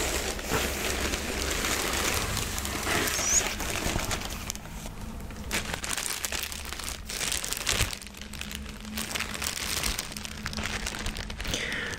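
Crinkling plastic and paper packaging rustles and crackles steadily up close while a tennis racket is unboxed, with soft tearing and handling noises in a quiet room and no talking.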